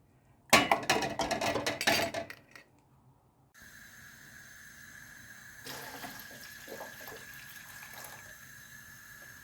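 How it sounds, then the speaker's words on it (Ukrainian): Hot water is poured into a pot holding five one-litre jars of pickled cucumbers: a loud, close splashing pour for about two seconds, then a brief pause and a steady, even hum with faint knocks. "долью ще гарячу воду"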